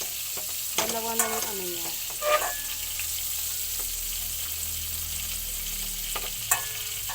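Margarine sizzling in a frying pan on a home stove for bopis, a steady crackling hiss throughout with a few scraping clinks of a utensil, while a voice speaks briefly.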